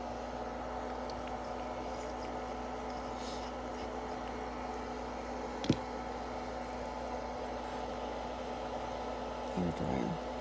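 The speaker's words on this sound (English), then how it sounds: "Hair dryer." A hair dryer drones steadily with a constant whooshing hum throughout, broken by one sharp click midway and a brief clatter near the end.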